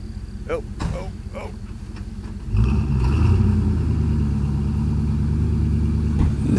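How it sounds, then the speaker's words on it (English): An old Chevy Silverado's engine revs and roars under strain while pulling a stuck Duramax diesel truck, the loud steady drone rising sharply partway through and holding, with voices talking over the start. "And then the old Chevy Silverado trying to pull it out."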